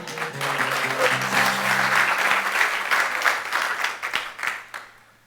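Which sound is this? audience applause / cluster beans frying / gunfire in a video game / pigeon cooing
audience applause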